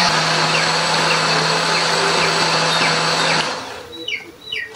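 An electric blender grinds red curly chili, shallots and garlic with a little water into a spice paste, a loud steady whir for over three seconds that cuts off abruptly, followed by quieter clatter.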